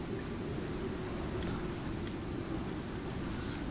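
A rainstorm in the desert biome of the survival game Icarus roars as a steady, dense wash of rain and wind, constant and unbroken, with no voices.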